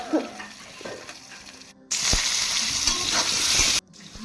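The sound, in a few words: fish, potatoes and eggplant frying in a pan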